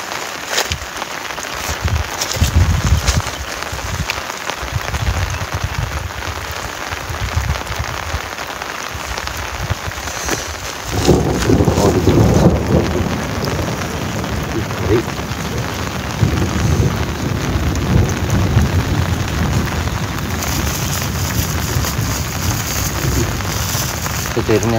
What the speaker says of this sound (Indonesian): Petirnya terus menyambar teman-teman.